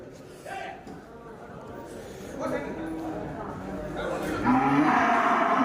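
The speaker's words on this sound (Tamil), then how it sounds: "இதெல்லாம் வாங்கி கட்டி வச்ச மாடுங்க தான்" Cattle tied up at a village weekly market in Vaniyambadi, Tamil Nadu, give a low moo toward the end amid busy outdoor bustle, with people talking throughout.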